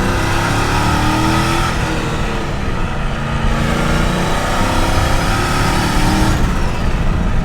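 Turbocharged 5.0 V8 swapped into a Ford Ranger pulls hard under acceleration, a loud continuous engine roar heard from inside the cab with rising revs and a brief shift lull midway.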